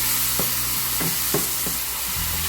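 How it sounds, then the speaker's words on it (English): Pureed tomato meets a hot pan for chickpea curry, giving a steady loud sizzle with a few soft stirring knocks throughout. "So now we're adding the one pureed tomato."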